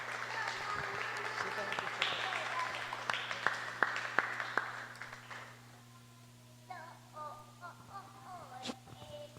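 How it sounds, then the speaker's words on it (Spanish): A church congregation applauding during a sermon, scattered moderate clapping for several seconds under a speaking voice and a steady low hum, fading out before the preacher resumes talking. "Denle un fuerte aplauso al Señor."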